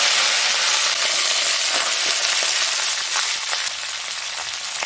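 Whole cumin seeds sizzle in hot oil, a loud, dense, hissing crackle held steady from start to end and easing slightly near the close, with no voices.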